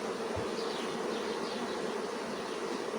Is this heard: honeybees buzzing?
yes